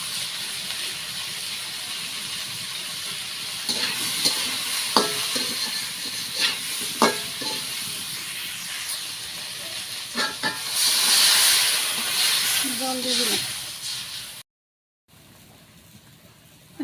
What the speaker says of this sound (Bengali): রান্না করতেছি যে তরকারিতে জল দিয়ে দিছি